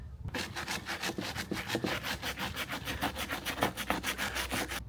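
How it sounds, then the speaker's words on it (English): A wire brush scrubs rotten wood on a boat in fast, steady back-and-forth strokes. The rasping is close and continuous, with no voices. "This rot's actually coming back quite nicely with just a wire brush."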